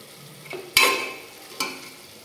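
Water hits a hot pan of chicken frying in oil twice, each pour bursting into a sharp hiss and sizzle that slowly dies away.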